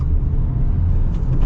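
A 2023 Subaru WRX Premium with a manual gearbox sets off, giving a brief, steady low engine rumble from inside the car.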